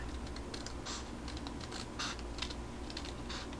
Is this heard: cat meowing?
no